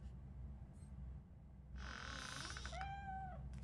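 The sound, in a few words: cat meowing in video game RoboCop: Rogue City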